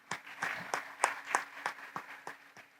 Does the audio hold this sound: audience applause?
yes